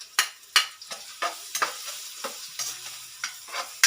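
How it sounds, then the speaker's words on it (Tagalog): Garlic and ginger sautéing in a hot pan, with sharp scraping stirs about every half second over a steady background sizzle, close and clear with no talking. "Gisa-gisa lang po natin."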